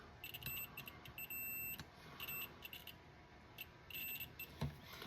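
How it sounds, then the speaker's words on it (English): Multimeter continuity beeps while a ham radio accessory circuit board is probed, several short steady tones of varying length switching on and off, moderately close, with no talking. "We're going to test it for continuity to make sure everything's working correctly."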